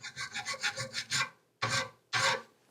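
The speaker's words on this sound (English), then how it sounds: "And I'll go out it with a rough, like a mill bastard file." Rasping strokes of a mill bastard file on mild steel, about seven quick rhythmic passes followed by two longer, heavier strokes after a pause, close and fairly quiet with no voices.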